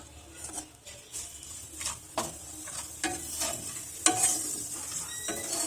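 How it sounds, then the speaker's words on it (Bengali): Ajwain, nigella seeds and ginger sizzle gently in moderately hot oil, a soft steady crackle with small pops and occasional stirring scrapes, close and with no voices. "দেখো হালকা হালকা তেলটা গরম আছে বলে একটু বাবেল উঠছে, তেলটা খুব বেশি গরম না।"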